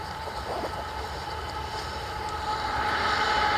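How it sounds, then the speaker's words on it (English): A train passes close by on a rail line near an outdoor woodland spot, its steady rumble and rattle filling the air and growing louder toward the end, with no talking. "Oh, train!"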